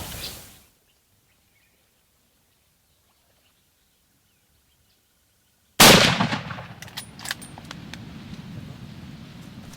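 A single loud rifle shot fired at a South African buffalo bull breaks a long silence, followed by a rolling echo and rustling, with faint bird calls afterward.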